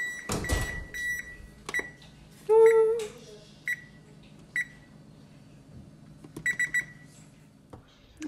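An oven timer is set with a run of short electronic beeps, some single and some in quick clusters, with a longer tone near the middle, over quiet kitchen clatter.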